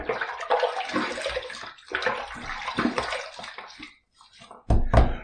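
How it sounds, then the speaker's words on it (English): Water runs from a tap into a basin while the face is wet before a shave, a splashing flow that stops briefly and returns in a louder burst. "let me go ahead and wet the face and let's do my pre-shave."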